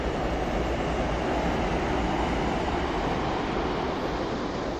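A train rumbles past near Hon-Atsugi station, a broad, steady roar that stays constant and fairly close, with no voices.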